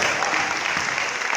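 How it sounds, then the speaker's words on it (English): An audience at an event bursts into a steady, dense round of applause that stays loud and continuous for the whole short stretch, with no voices standing out. "Please a big round of applause."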